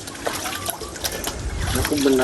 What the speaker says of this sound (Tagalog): Inuhugasan po ni Bossing ng tubig alat